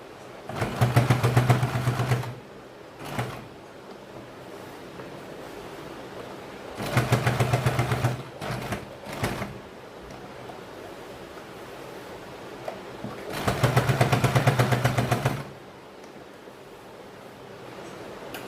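A sewing machine stitching a market bag runs in three loud, rapid bursts of clattering stitches, separated by quieter pauses with faint handling rustle.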